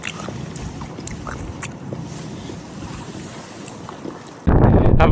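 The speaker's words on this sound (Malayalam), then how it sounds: "It's a windy day." Strong wind blows on a day too windy for kayaking, a rough rushing roar buffeting the microphone that erupts into a much louder, harsher blast near the end.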